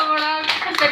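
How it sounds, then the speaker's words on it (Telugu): A family claps for young Tanish at home during a panipuri eating challenge: a brief, close scatter of hand claps over a tonal sound. "Tanish claps claps claps for Tanish."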